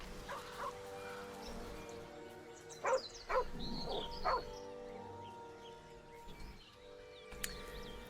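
A dog in Baldur's Gate 3 gives a few short, sharp barks and yips in the middle, over a quiet game soundtrack, with no talking.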